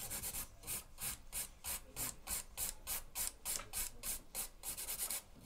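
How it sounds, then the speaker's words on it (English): An acrylic nail is filed by hand, the file rasping in brisk, even back-and-forth strokes, close and steady, with no one speaking. "I'm using a hand file"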